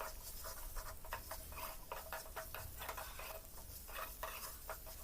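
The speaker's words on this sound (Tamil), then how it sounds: "சேர்த்துட்டு இது ஒரு 2 மினிட்ஸ் வறுத்துக்கலாம்." Tomato masala mixed with ground coriander frying in a pan, a low continuous sizzle broken by frequent scraping and clinking stir strokes against the metal, close up with no voices.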